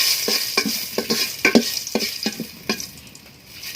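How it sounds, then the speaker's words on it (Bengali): Crushed garam masala stirred into hot oil in a pot before pork goes in, a loud close sizzle broken by a quick run of rhythmic spatula scrapes, no talking. "এখন আমি থেতো করে রাখা গরম মশলা দিয়ে দেব তেলের উপরে। নেড়ে নিলাম।"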